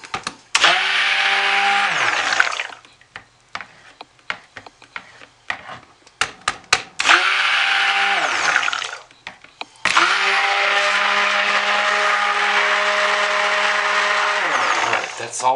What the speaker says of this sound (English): This has been the best stick blender ever.